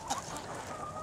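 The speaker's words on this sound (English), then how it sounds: "Just really, really enjoy having chickens." Backyard chickens of several color varieties, including blues, lavenders and pinks, cluck softly and continuously close by, with a few brief higher calls over the flock's chatter.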